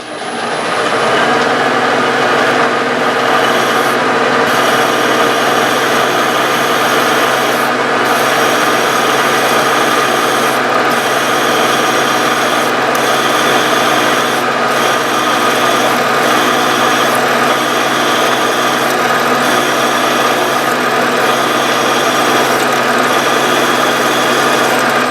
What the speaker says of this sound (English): We're just going to drill straight through it.